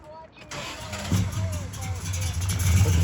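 A 1964 Chevrolet Chevelle Malibu engine cranks and catches, then rumbles into a rough, rising idle nearby, with people talking over it.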